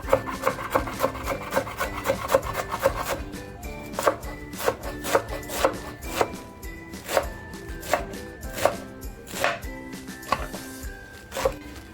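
Spinach being chopped finely with a knife on a board, a steady run of crisp, rhythmic blade taps, fast at first then spaced about once per second, close and clear.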